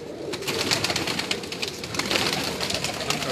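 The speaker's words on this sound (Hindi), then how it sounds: "ये इनके सब परिंद कबूतर हैं" Flying pigeons in a loft coo and rustle close by in a busy, continuous murmur, with soft repeated calls and faint wing movement.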